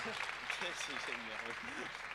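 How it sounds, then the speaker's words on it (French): Applause from an audience at a talk by artists, a continuous wash of clapping heard under a voice talking over it. "Une salve d'applaudissements."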